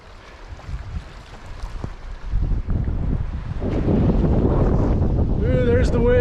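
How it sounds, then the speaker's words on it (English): Wind gusting outdoors near the Tetons, close to Death Canyon, a rough broadband rush buffeting the microphone and swelling louder toward the end, with no talk over it. "there's the wind"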